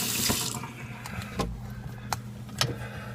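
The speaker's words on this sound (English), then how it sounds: "Nice running faucet." A Moen kitchen faucet, just repaired, runs a steady stream of water into the sink. It splashes close by with a few clicks and knocks, and nobody talks.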